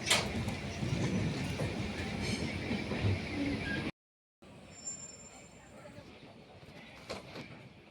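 Kagaznagar Superfast Express hauled by a WAP-7 electric locomotive, rumbling steadily with wheel clatter and a faint squeal. A short gap breaks the sound before a quieter rolling stretch resumes, with a distant voice.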